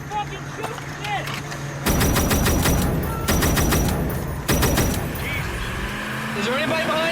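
Rapid bursts of gunfire in a combat firefight during war, loud and close, coming in three dense volleys separated by brief pauses, with shouting voices and vehicle noise underneath.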